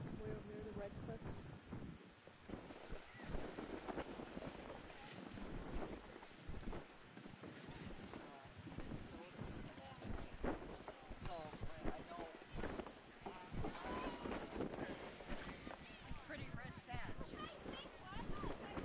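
Wind gusts across open sand dunes near red cliffs, roaring and buffeting the microphone in a constant rough rush, with people talking over it throughout.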